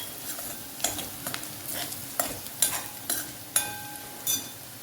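Wild forest vegetable sautéed with masala in a pan gives a soft continuous sizzle with repeated scraping strokes of a spatula at a steady rhythm, close and fairly quiet, with no voices.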